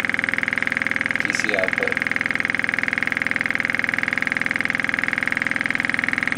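A Lynx Joule motor generator runs steadily with a constant whining hum and rapid regular pulsing, close and loud, while a voice speaks briefly over it.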